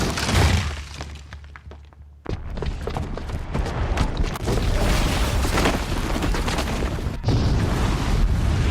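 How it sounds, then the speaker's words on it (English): A bomb blast in Horizon Zero Dawn, a long roaring, crumbling explosion with debris and rumble that drops briefly, then surges back into sustained loud destruction, close and dominant with no talk. "the booby trap on the bomb downstairs is gonna get set off"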